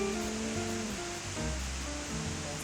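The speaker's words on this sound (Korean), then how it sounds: "폭포는 여러 개의 작은 폭포로 이루어진 계단식 폭포입니다." A long, tiered cascade waterfall in Germany, running high after rain, gives a steady, even rush of falling water with low tonal hum mixed in, continuous and moderately loud throughout.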